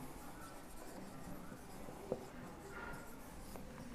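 Handwriting on a board or page while a determinant is worked out by expansion along a row, a soft continuous scratching and rubbing held at an even low level with one faint tap midway.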